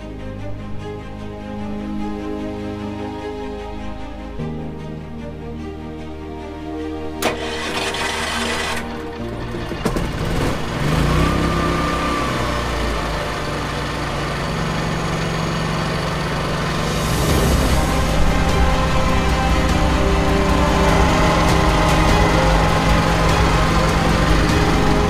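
A generator engine cranks and catches, then settles into a loud, steady running drone that builds and holds, with mechanical clatter near the start and no speech.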